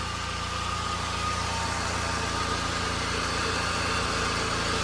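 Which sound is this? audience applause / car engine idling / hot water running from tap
car engine idling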